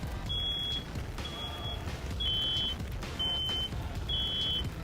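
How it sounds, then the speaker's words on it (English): Two smoke alarms in a residence hall fire beep in several short, high-pitched electronic beeps repeating at a steady pace over a low rumbling background, with no talking. "So we got both smoke alarms are going off."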